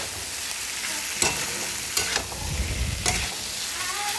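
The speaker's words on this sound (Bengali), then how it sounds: "এবার ভাজা আলু ফুলকপি মটরশুঁটিটাকে মশলাটায় ছেড়ে দিতে হবে। ভালো করে মশলাটা মাখিয়ে কষিয়ে নিতে হবে ফুলকপি আলু মটরশুঁটিটাকে।" Fried potato, cauliflower and peas are tossed into a sizzling spice paste for a fish curry, with a few distinct scrapes and stirs of the spoon over a low, continuous frying hiss.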